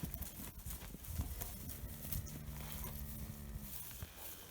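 Horses walking toward the listener across a pasture give soft, uneven hoof thuds and shuffles, close but quiet, over a low outdoor background with no talk.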